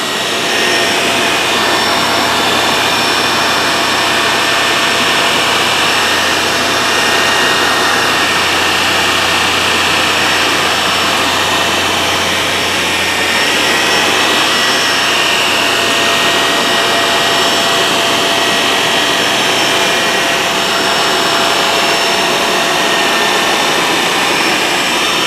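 A Shark Navigator Lift-Away upright vacuum cleaner runs continuously, a loud, steady high-pitched whine with a broad airy roar, close and unbroken throughout.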